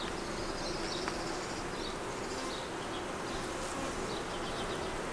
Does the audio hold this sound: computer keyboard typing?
no